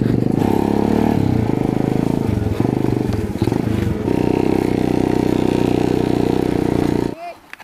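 A trail motorcycle engine running loud and close on a rough ride, with a steady drone and some clatter, then cutting off abruptly near the end.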